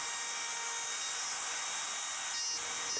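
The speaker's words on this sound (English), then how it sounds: "I use one of my routers, and a particularly nice little router that has no cable to get in the way" A small cordless router cuts wood joints freehand with a continuous high, whining roar and dense grinding hiss, steady and close throughout, with a slight change in pitch near the end.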